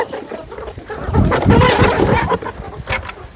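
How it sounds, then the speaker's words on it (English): Laying hens feeding on black soldier fly larvae cluck and chatter close by, a busy, overlapping flock of short calls that swells in the middle, with no talking. "we are now going to feed the black soldier fly to our chicken, where we have our layers here"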